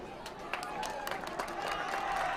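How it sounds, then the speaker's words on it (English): An audience at an under-16 football match between Bhutan and Maldives at the SAFF U16 Championship gives a round of applause. The clapping is moderate and scattered, fairly distant crowd noise rather than a loud ovation. "A big round of applause is given by the audience."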